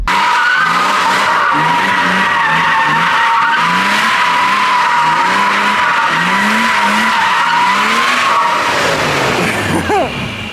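Car tires squeal continuously in a long, loud skid while the engine revs and surges underneath, the screech fading out near the end.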